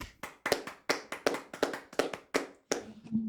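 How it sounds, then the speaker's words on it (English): About a dozen single claps in an uneven rhythm, close by and crisp, like one or two people clapping alone. "let's give a round of applause"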